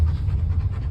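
A puppy pants in quick, rhythmic breaths, close and fairly loud, with no talk over it, on a stormy ride in a car.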